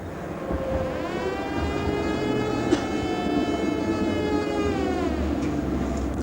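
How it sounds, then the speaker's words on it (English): Chopper controller whine from a 1991–1992 Berlin tram, a steady harmonic tone sweeping upward then holding and gently falling over several seconds, continuous and fairly close above a rumbling running-gear background, with no talking. "listen to the chopper singing its tune"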